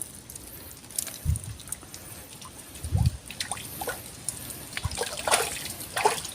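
Water in a shallow fishing creek, soft trickling and dripping with a few low bubbling plops and splashes close by, fairly quiet and intermittent.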